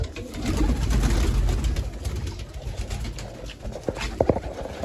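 Pigeons coo softly and repeatedly nearby, with low murmuring calls, a few wing flaps and light taps near the end.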